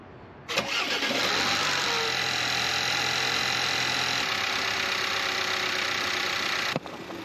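Audi Q5 2.0 engine cranking and catching right after a spark plug change, then settling into a steady, loud idle close by, with a sharp click near the end.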